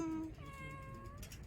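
A cat outdoors in Okinawa gives a single faint, drawn-out meow, close by and alone, with no voices over it.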